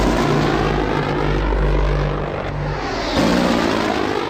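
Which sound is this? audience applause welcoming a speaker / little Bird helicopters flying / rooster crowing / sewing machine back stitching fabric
little Bird helicopters flying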